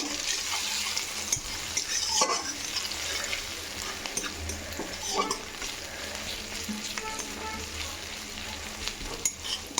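Ginger fries lightly in a pan, crackling and sizzling up close, with occasional stirring scrapes and utensil knocks against the pan.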